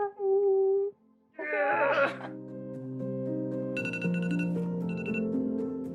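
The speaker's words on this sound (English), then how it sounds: "This was my alarm to come get you from the bus stop." A synthesized alarm tone chimes in a few steady notes, then swells into layered electronic tones that keep sounding, close and fairly loud.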